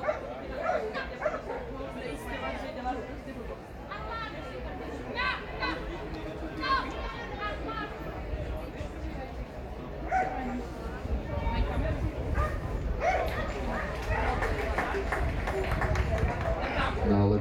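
Dogs bark and yip repeatedly at the FMBB 2019 dog jumping competition, with an announcer speaking over the crowd and bursts of barking rising and falling throughout.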